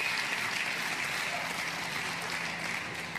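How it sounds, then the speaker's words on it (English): Steady crowd applause at a pickleball match in Mesa, Arizona, heard at a distance, a dense wash of clapping that holds evenly throughout with no voices standing out. "Some applause from the crowd."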